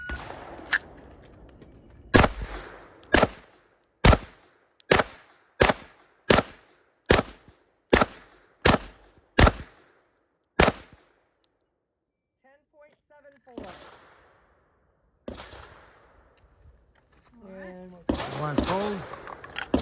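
Walther PPQ TAC pistol fired at an outdoor range: about a dozen sharp, evenly spaced shots in rapid succession, loud and close, followed by a pause and brief speech.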